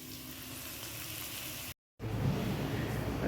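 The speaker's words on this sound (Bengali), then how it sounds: "কাঁকরোলটা ভাজা করছি" Spiny gourd frying in a pan gives a steady, close hiss of sizzling oil that cuts out briefly to silence, then resumes louder and fuller.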